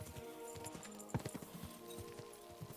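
Horse hooves clop and gallop in the medieval video game Kingdom Come Deliverance II, quiet rhythmic thuds with one sharper hit, over a faint ambient game backdrop.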